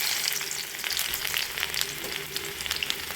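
Onions sizzle steadily in hot oil in a wok, a dense crackling hiss with occasional pops and stirring, close and fairly loud, no voices.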